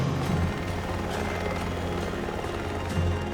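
Steady loud thrum of a private charter helicopter, close and continuous, its rotor drone filling the whole clip with no talking.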